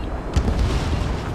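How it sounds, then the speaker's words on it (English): A missile striking its target in Ace Combat 7 during a Su-34 mission, heard as a short, muffled low boom swelling briefly and fading under steady engine rumble. "Missile hit."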